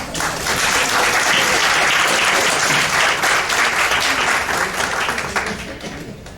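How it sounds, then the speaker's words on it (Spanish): An audience at an accountants' tax conference in Venezuela gives a speaker a loud, full round of applause, a dense continuous roar of clapping that tapers slightly toward the end. "Le damos un fuerte aplauso"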